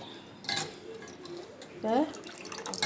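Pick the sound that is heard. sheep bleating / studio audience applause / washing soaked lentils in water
washing soaked lentils in water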